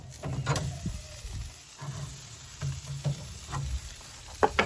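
Memphis-style dry rub ribs on a grill being turned over with tongs, a soft sizzle under clanks and scrapes of metal on the grate, with a few louder knocks near the end.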